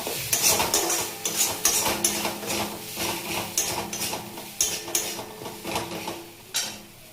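Spice masala for potol kosha being sautéed and stirred in a pan, with repeated scraping clinks of a spatula against metal over a steady sizzle, loud and close, in uneven bursts throughout.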